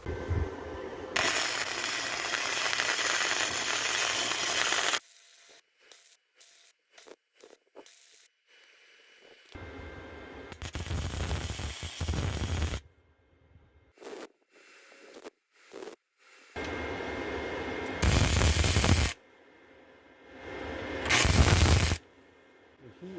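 A wire-feed welder runs outdoors on a Harley-Davidson Softail motorcycle, its loud crackling arc coming in several separate bursts of a few seconds each, with quiet gaps between them.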